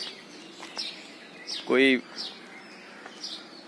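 Small birds chirp briefly in a park in the morning, with short high calls scattered through the clip and one louder call near the middle, while someone speaks over them.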